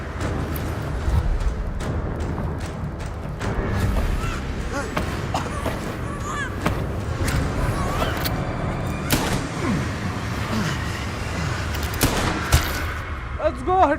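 Rapid bursts of video game gunfire crackle through the whole stretch, dense and fairly loud, with excited talk running over the shooting.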